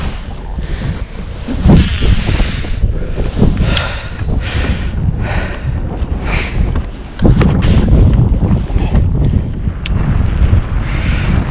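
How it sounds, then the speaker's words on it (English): Wind gusts at about 20 miles an hour across a lake during winter bass fishing, buffeting the microphone with a steady loud roar and rumble throughout, mixed with faint splashing and boat sounds. "Wind blowing 20 mile an hour."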